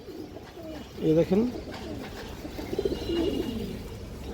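A flying pigeon, a two-year-old bird with an all-black tail, gives a few close, moderately loud coos in two short bursts, while someone talks over the calls.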